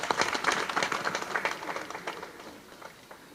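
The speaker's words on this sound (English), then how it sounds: "Give him a hearty clap as he comes." An audience applauds at a formal event for Kenya's Attorney General, producing a fairly faint, steady patter of hand claps that thins out toward the end.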